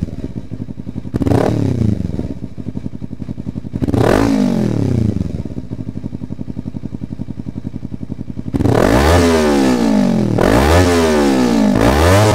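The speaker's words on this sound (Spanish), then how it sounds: "Algo que al menos le da algo de carácter a esta moto de Dynamo es su sonido de motor" Dynamo motorcycle engine revving in repeated bursts, rising and falling in pitch over a steady idle, loud and close, with no talking.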